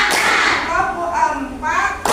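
Children in a classroom chant together during a numbered clapping game, their voices leading while sharp hand claps punctuate the start and end.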